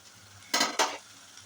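Chopped onions for a prawn curry are being fried in a pan. Two short, bright bursts of stirring and sizzling stand out against near-quiet in between.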